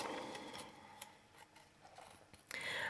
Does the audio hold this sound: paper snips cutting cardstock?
yes